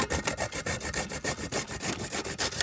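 Peeled raw green papaya is rubbed against a hand grater in quick, even back-and-forth strokes, about four rasping scrapes a second, close and alone.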